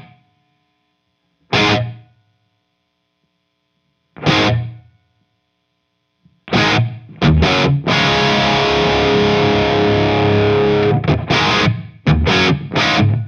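Electric guitar played through an amp-less effects rig with heavy distortion and chorus, loud close chords struck in short separated bursts, then a long sustained ringing passage and a few more choppy hits, no voices.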